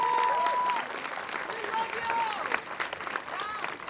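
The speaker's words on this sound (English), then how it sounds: "So let's give them a round of applause" At an indoor high school graduation ceremony, the audience claps for the teachers, a dense, sustained burst of applause from a large crowd. Faint cheering whistles run through the clapping, and there is no talking.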